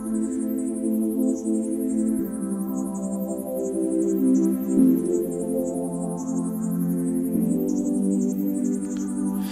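Breathless Space synth pad preset in Logic Pro, tweaked between glitter and classic pad: a sustained, airy harmonic chord drone with a shimmering high layer, steady and continuous without voices.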